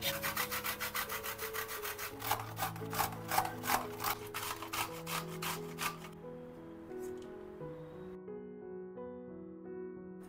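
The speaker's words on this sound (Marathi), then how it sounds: "कैरी आता आपली सोलून झाली आहे, ती मी आता थोडीशी किसून घेतेय." Peeled raw green mango rubbed by hand against a grater in a home kitchen, giving a run of quick, rhythmic rasping strokes up close that stop partway through while soft background music carries on.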